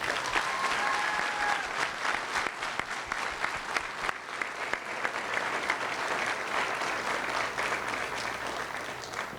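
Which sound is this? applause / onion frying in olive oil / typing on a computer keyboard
applause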